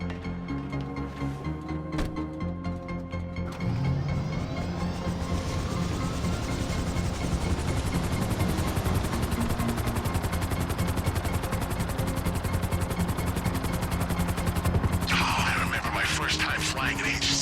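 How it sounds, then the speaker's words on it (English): Agency helicopter in GTA 5 flies with a steady rotor chop building to a loud, dense whir, joined late by a bright burst of other game noise. "Flying an agency helicopter."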